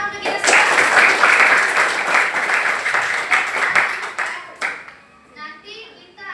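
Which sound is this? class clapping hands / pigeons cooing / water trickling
class clapping hands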